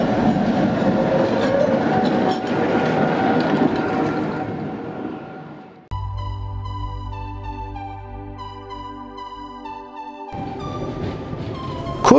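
A tram in Gotha climbs the steep Nelkenberg, rumbling and rattling over the rails, then settling into a steady tonal motor whine before the rolling noise returns near the end.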